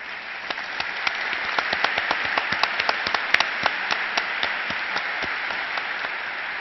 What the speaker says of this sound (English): Please stand, David Phillips, to be applauded.